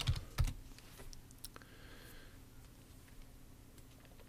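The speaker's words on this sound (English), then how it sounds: "type in traduction" Keystrokes on a computer keyboard, a short burst of loud clicks at the start followed by faint scattered taps over a quiet room hum.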